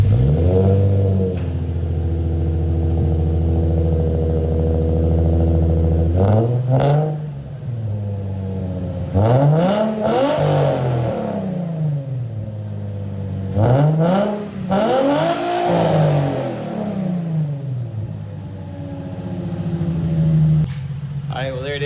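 A Nissan 350Z engine idling with a new single-exit exhaust, then revved repeatedly in several sharp bursts that rise and fall, with a deep exhaust tone close by.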